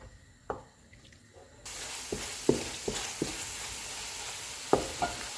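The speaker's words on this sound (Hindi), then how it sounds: "अब हम चूल्हे को मीडियम कर देते हैं और इसको 5 से 6 मिनट तक भूनेंगे।" A steady sizzle of spices frying in a pan over medium heat, with occasional clinks and scrapes of stirring over the hiss.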